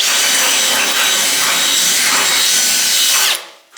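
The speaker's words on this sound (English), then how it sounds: "Lovely manoeuvring with the drill." A power drill whirs steadily at close range for about three seconds, grinding into material while fitting tarmac arches to a Ford Escort Mk2 rally car, then cuts off abruptly.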